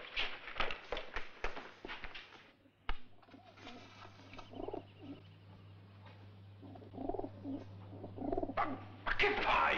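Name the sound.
pigeon cooing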